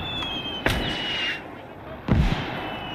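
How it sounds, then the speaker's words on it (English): Two heavy booms from a 55cm mortar in the World War II game Gates of Hell, spaced about a second and a half apart, each a sharp thump with a rumbling tail over a faint hissing battlefield background. "Is that the 55cm mortar?"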